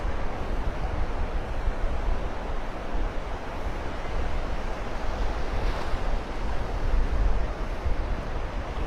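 Ocean surf washes steadily onto Delnor-Wiggins beach in North Naples, Florida, on a sunset walk, with gusting wind buffeting the microphone in a constant close roar and no voices.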